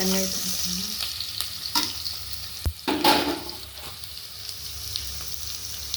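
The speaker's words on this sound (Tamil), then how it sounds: "சீரகம் பூண்டு போட்டுக்கலாம்." Steady sizzling and crackling of cumin and garlic frying in hot oil, with a few louder stirring scrapes and pops in the middle.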